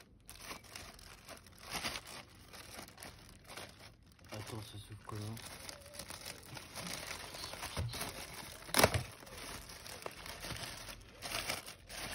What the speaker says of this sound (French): On déballe le skate.